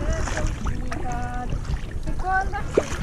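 Kayak paddling on Lake Annone, with soft water strokes and splashes close to the boat, a steady wash of wind in the background, and brief voices talking over it.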